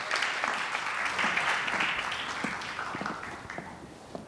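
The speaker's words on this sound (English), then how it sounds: "Let's have a big round of applause for Saul." An audience claps to welcome a student speaker, starting as a dense wash and thinning into scattered individual claps as it fades.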